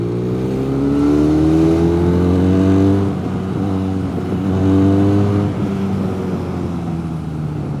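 A Benelli Leoncino 500 parallel-twin 500cc motorcycle engine revs up and down twice, its rough droning pitch rising and falling, close and loud, with no talking.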